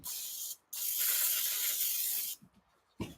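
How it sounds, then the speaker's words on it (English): Two bursts of coconut-oil cooking spray hiss from an aerosol can into a pan, a short first spray and a longer, steady second one, close and loud, followed by a brief clatter. "Spray it with coconut oil or whatever else you have close by"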